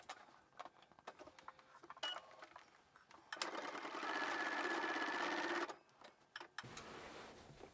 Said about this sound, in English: Let's head to the machine and stitch everything down.